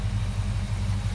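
A 1970 Dodge Coronet 440 with a 383 Magnum high-performance V8 idles steadily, a deep continuous low rumble with an even pulsing throb, close and fairly loud with no other sounds.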